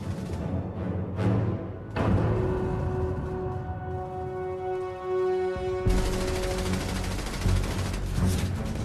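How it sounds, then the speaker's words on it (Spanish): German MG-42 machine gun fire in a wartime battle scene, rapid dense bursts with sustained loud crackling that drops briefly and resumes, mixed with a continuous hum and distant battle noise, no voices. "A 1200 disparos por minuto su velocidad superaba a la de las ametralladoras aliadas más parecidas"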